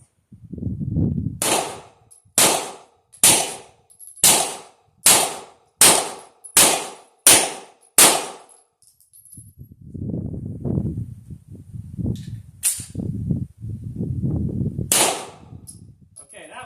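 An RIA 1911 A2 TACT 9mm pistol fires nine sharp, loud shots in an even rhythm, then someone talks with two more shots cracking out between his words.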